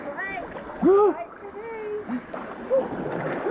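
Water splashes as a person slides down a rock slide into a cold gorge pool, with voices calling out and water sloshing close by through the whole stretch.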